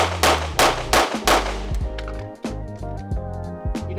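Handgun shots fired in two-handed shooting practice, a quick string of sharp, loud reports at the start followed by a series of lighter clicks and taps, close and with no talking.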